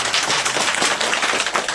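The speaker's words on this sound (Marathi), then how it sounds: "सगळ्यात प्रथम त्यांच्यासाठी टाळ्या वाजवायच्या आपण." An audience at an honouring ceremony for a Vaishno Devi pilgrimage applauds the ticket organisers, a steady dense wash of many hands clapping together, loud and continuous throughout.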